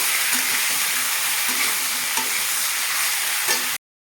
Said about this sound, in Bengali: হলুদ লবণের সাথে একটু ভাজা ভাজা করে নিয়েছি